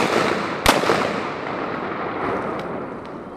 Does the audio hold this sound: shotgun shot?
yes